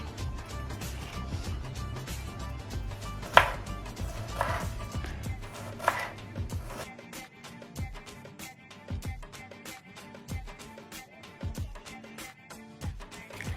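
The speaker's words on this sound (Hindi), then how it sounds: "अब हम इनकी बारीक बारीक कटिंग करेंगे ऐसे।" Peeled potatoes are finely chopped with a knife, giving a quick, fairly quiet run of close taps and cuts, with a few louder knocks early on and no talking.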